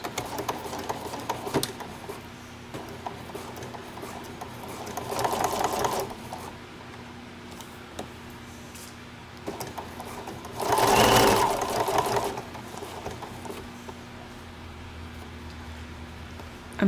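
Sewing machine stitching the handles of a tote bag made from a placemat, through two weights of fabric, in several bursts of rapid whirring separated by pauses, close and clear with barely any talk.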